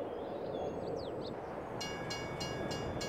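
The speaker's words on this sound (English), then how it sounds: "Where is that dang train?" A train in a farming video game pulls in and backs into the farm. Its horn or whistle sounds in four evenly spaced blasts over a steady mechanical rumble.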